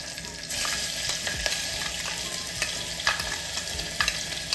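Green spice paste sizzling in a pot of spiced pea pulao, a steady loud frying hiss with occasional stirring scrapes and pops, close up and with no voices.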